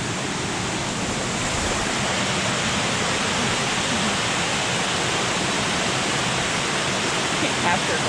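Waterfall along a river on a barefoot hiking trail, a steady broadband rush of falling water that fills the whole clip, loud and continuous without pause.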